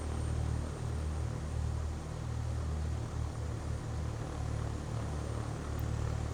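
A British Airways plane lines up on the runway in World of Airports, heard as a steady low engine drone under broadband hiss that holds level throughout, with no talking.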